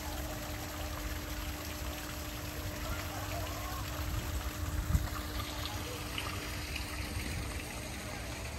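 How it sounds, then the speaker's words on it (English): Steady, faint rushing and trickling of a waterfall beside a large koi pond, a constant wash of water with a few louder splashes, no voices over it. "I like to hang out by the waterfall."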